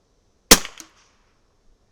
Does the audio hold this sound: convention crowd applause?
no